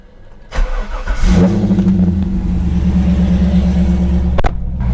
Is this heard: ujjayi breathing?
no